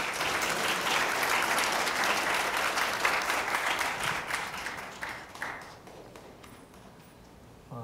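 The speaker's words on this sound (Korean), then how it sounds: "박수로 맞이하겠습니다." Audience clapping to welcome a speaker at a memorial ceremony for the June 15 North-South Joint Declaration in Gwangju, dense and steady at first, then thinning and fading out toward the end.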